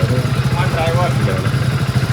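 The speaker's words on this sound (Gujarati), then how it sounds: "2 બાઈકો લઈને ગયા છીએ. આ બસ તો સિસ્ટર પણ બાઈક ચલાવે છે" A motorcycle engine idles with a steady low rumble, voices talking over it.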